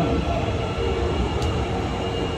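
A train pulls into a station on the way to Namba, Osaka, giving a steady, loud rumble of rolling wagons with a faint brief squeal partway through, and no voices.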